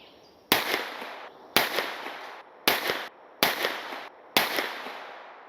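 Five sharp pistol shots from a Stealth Arms Platypus firing 124 grain Gold Dot rounds at a 25-yard range, evenly spaced about a second apart, loud and close, each with a short decaying echo.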